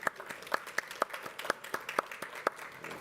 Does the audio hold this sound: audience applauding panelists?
yes